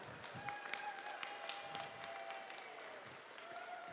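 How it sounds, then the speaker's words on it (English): A crowd at an outdoor giant vegetable weigh-off claps in a faint, scattered burst, a light patter of hands spread across the space, with some faint tonal hum lingering underneath. "People are going to clap right now."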